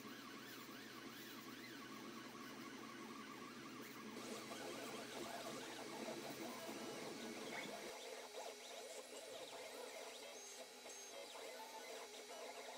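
A 3D printer at work on a drag engraver holder, its stepper motors giving a steady whining, warbling hum with shifting pitch that runs throughout, faint and alone.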